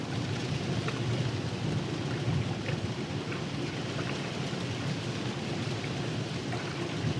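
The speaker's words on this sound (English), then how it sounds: "that's the rain coming back." Steady, dense rain falls continuously near the Koaloa Mountains on Oahu, a broad hiss with occasional heavier drops and no voices.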